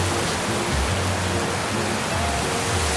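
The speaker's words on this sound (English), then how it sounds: "just ventured out to this cool waterfall." A waterfall at Olde Rope Mill Park on a gloomy day pours with a loud, steady, close roar of rushing water that never lets up.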